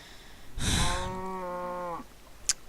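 A pixel-style video game sheep gives a single drawn-out bleat with a clear wavering tone, close and fairly loud, followed by a brief soft click.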